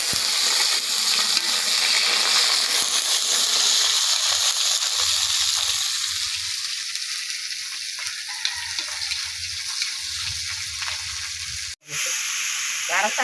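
Dried fish fries in a pan with mustard and garlic, giving a loud, steady sizzle and hiss up close with occasional stirring scrapes, then a brief drop before the frying resumes.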